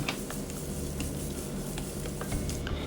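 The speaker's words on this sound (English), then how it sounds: "Continue to saute and then add the carrots." Carrots sautéing in a pan for restaurant-style fried rice, a steady close sizzle with scattered stirring scrapes and clicks throughout, no voices.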